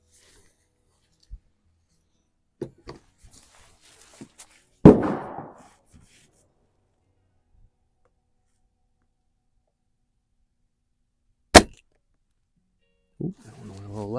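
A Crosman Shockwave air rifle fires Air Arms pellets, two sharp, loud cracks several seconds apart amid long near-silent gaps, with soft handling clicks and rustles between them.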